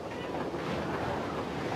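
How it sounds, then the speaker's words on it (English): Ocean water churns and roars steadily as a fishing ship sinks, a dense continuous wash of waves and wind with no distinct impacts. "As the ship is swallowed by the ocean,"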